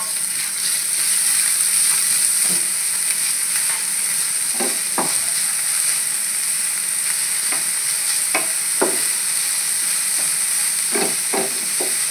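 Chopped onion added to garlic frying in a pan for a white sauce cheese pasta sizzles with a steady bright hiss, broken by repeated short scrapes and clinks of stirring.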